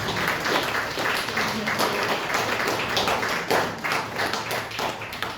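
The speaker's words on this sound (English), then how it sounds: "well worth a round of applause, I would say" An audience at the Rewind Festival 2022 in Lancaster gives a round of applause during an onstage conversation, a steady, dense wash of many hands clapping at once, sustained throughout.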